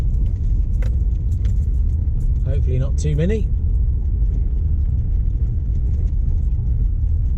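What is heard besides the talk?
car driving along a track to a car park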